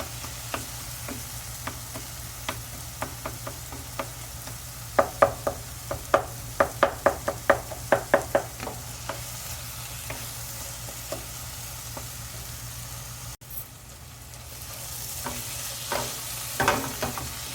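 Eggplant for baigan bharta being stir-fried in a pan: a series of sharp, close spatula scrapes and taps in an uneven rhythm, with a quiet sizzle underneath and a brief gap before the stirring resumes.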